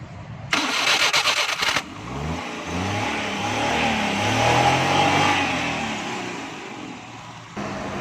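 A CNG-fitted car with trouble running on gas has its self-starter engaged: a short burst of starter cranking, then the engine catches and settles into a steady idle that rises slightly, heard up close with no talk.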